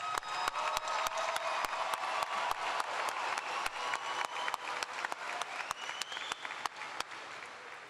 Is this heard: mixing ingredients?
no